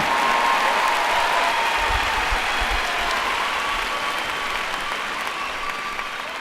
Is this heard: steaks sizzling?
no